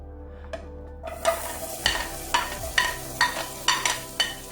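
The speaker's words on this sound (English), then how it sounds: "So we're just going to start cooking here our onions and garlic." Sliced garlic and onion cooking in canola oil in a pot over medium heat: a quiet start, then a sizzle with a regular series of scraping stirs, close and alone.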